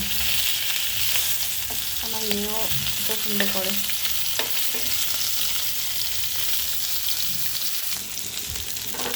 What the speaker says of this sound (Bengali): মাছটাকে ফ্রাই করে একটু ভাজা ভাজা করে